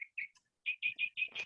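Small birds chirping nearby in short, bright bursts, a few sparse calls followed by a quick run of repeated chirps, sounding alone without any talk over them.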